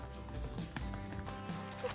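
A horse at a farm in the Czech Republic moves close by, with a few quiet hoof clops and shuffles against low background noise.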